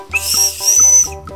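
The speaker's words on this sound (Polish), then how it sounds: "Mam taki specjalny gwizdek i jak to jest do psów" A special dog whistle blown in a tent, giving two long, loud, piercing shrill blasts with a short break between them and no talk over it.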